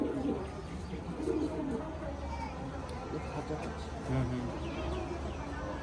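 Golden Kamagar pigeons coo at a pigeon-seller's loft, a low rolling murmur with scattered chirps and human voices in the background throughout.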